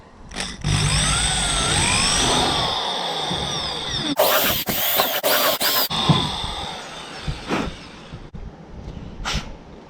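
A power drill bores out M4 bolt holes in a Hobie Outfitter kayak's plastic hull, a steady loud whine running from about 0.5 to 4 seconds, then short choppy bursts through 6 seconds and a few brief later blips.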